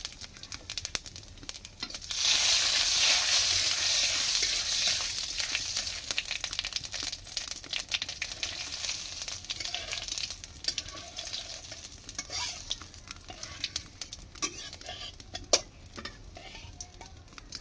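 Cumin seeds hitting hot oil in a pan while cooking hilsa fish curry, a loud burst of crackling sizzle up close that settles into softer spitting and scattered pops with occasional stirring scrapes.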